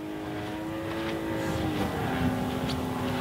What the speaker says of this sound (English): The noise is so nice. I never flown any gas airplanes